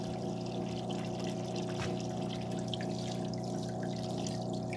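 Water sprays and streams steadily over engine rod bearings, a constant hissing wash with a low humming pump-like drone underneath, close and unbroken throughout.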